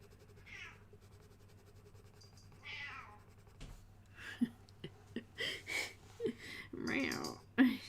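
A cat meows repeatedly, several drawn-out calls at first and then a run of shorter, louder cries close by, against a quiet indoor hum.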